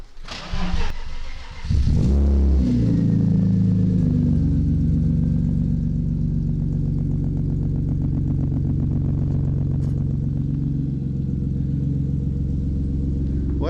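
A BMW E36 six-cylinder drift car cranks over, catches with a loud rumble after a couple of seconds, then settles into a steady, throaty idle close by at a track day.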